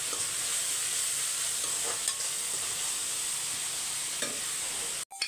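Onions sautéing in a pan for a fish curry, a loud, steady sizzle with faint scrapes of stirring underneath, cut off abruptly near the end.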